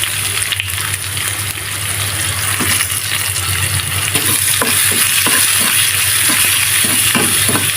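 Potatoes fry with dried chili, chopped garlic and onion in a steady, loud sizzle, with repeated close scrapes and knocks of stirring against the pan and no voices.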